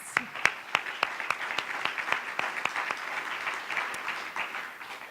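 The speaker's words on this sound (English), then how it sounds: "Give them a round of applause." Sustained audience applause at a live news event, a steady crowd of many hands clapping with sharp individual claps standing out, moderately loud and continuous for several seconds with no talk over it.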